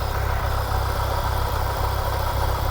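An idling Toyota engine runs steadily up close with a regular pulsing knock and a constant whirring hum from a worn alternator bearing.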